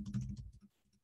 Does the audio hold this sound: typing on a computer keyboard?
yes